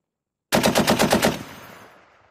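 A rapid burst of about seven gunshots fired during a Fuji Viper mobile defense shooting drill, loud and close, followed by a fading echo and no talking.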